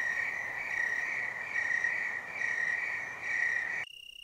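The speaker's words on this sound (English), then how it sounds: "Here we have both Riley's and snowy tree crickets singing" Riley's and snowy tree crickets singing together, a continuous high-pitched pulsing trill with steady rhythmic swells, fairly close and alone, cutting off abruptly near the end.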